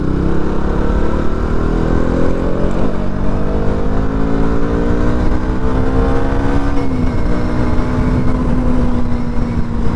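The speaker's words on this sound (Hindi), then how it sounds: "यहाँ गाड़ी काफ़ी स्पीड में आता है" Vehicles rush past at speed on a straight highway, a loud close drone of engine and tyre roar with gliding engine tones shifting as traffic goes by, continuous and heard from the roadside.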